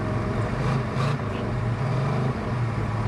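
A 1973 Dodge Charger with an 8 3/4 rear end cruising in high gear at about 60 to 65 mph, just over 3,000 RPM, a steady low engine drone mixed with road and wind noise.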